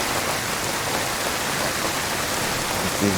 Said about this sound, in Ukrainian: Дощик якраз кажуть на удачу, так?